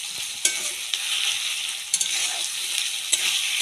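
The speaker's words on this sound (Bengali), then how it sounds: "এবার এর মধ্যে এক একে রসুন বাটা দিয়ে দিচ্ছি, আদা বাটাটাও দিয়ে দিলাম, জিরে বাটাটাও দিয়ে দিচ্ছি। ভালোভাবে কষিয়ে নেব।" Garlic, ginger and cumin paste fries and sizzles steadily in a pan with occasional stirring clicks, a continuous close hiss with no talk.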